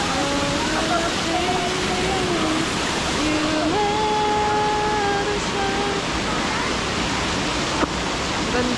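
A waterfall pours down from above in a steady, loud, hissing roar, with people talking over the rushing water throughout.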